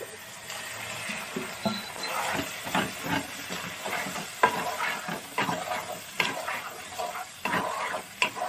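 Village-style chicken curry is stirred in a hot pan, a close sizzle broken by repeated scraping strokes of a spoon in an irregular rhythm.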